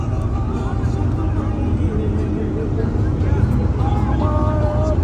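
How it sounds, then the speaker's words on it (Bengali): A trawler at Barishal gives off a steady low engine rumble that holds close and constant, with voices talking over it. "ও সুন্দর এক ট্রলার ওয়েট করছে আমাদের জন্য।"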